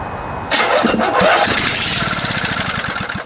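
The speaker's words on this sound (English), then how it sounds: "That sounds like a good engine to me." A small Briggs and Stratton riding lawnmower gasoline engine coughs to life after a brief pause, then runs loud and close with a rapid, steady chugging idle.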